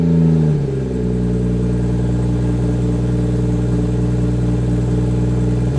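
A 2018 BMW M240i sits nearby with its engine running, a brief revving note settling quickly into a steady, deep idle rumble from the exhaust, held loud and even without voices.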